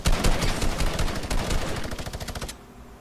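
Rapid bursts of gunfire from the Fortnite video game, loud and close, firing in quick rhythmic volleys for about two and a half seconds before cutting to quiet.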